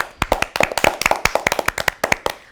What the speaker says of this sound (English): Let us all clap for Purva.